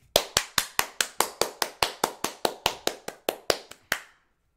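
About eighteen sharp, close hand claps in a fast, fairly even rhythm, each ringing briefly before the next, then silence at the end.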